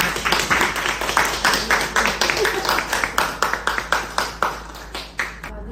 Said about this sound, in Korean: 우리 발달 장애인 김진영 파트너 강사를 한번 박수로 한번.